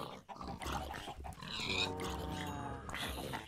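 Pigs grunting in Minecraft, a few short snorting oinks close by, fairly quiet, with game noises around them.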